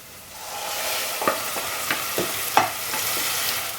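Half a tin of tomatoes being stirred into sizzling spices in a pan for dhal, with a steady hot sizzle broken by several sharp scraping strokes from the spoon.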